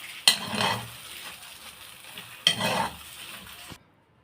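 Kishk cooks in ghee over low heat, giving a soft, steady sizzle with two distinct scraping stirs of a utensil in the pan.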